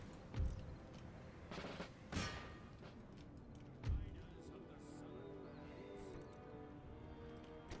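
Gunfire in Empire: Total War, a few distant booming volleys spaced apart over a low battlefield rumble, with faint scattered crackles between the louder reports.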